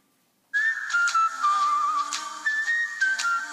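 A whistled melody from a phone ringtone starts abruptly after a short silence, playing as a bright, clear, sliding whistle tune that stays loud and close to the end.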